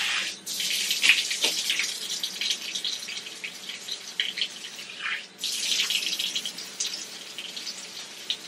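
Tap water runs in a shower during a hair-washing routine, a bright splashing stream that cuts out briefly near the middle before flowing again, close and fairly soft with no talking.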